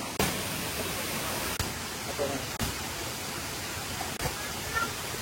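Steady broadband rush of the Sarika waterfall near Bangkok, a constant wash of falling water with a few faint knocks, heard without talk.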